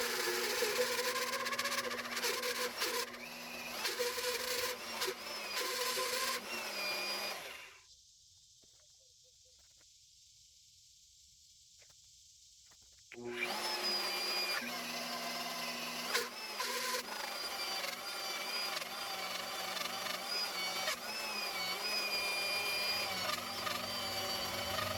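An annular cutter bores through steel plate on a boat trailer being converted into a hydraulic boom crane, a loud harsh grinding screech that stops for several seconds of near-quiet hiss, then resumes just as loud.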